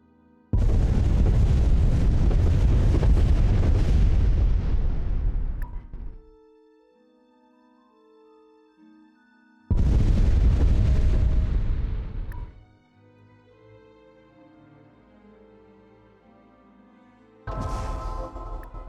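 Space bombardment of a planetary shield in the strategy game Master of Orion, with three long, loud roaring barrages of explosions separated by calm stretches of synth music.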